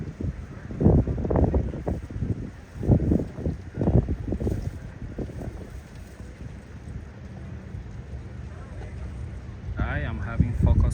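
Boats head out for demo rides at the Palm Beach International Boat Show, their motors a low rumble mixed with wind buffeting the microphone while a person talks over it.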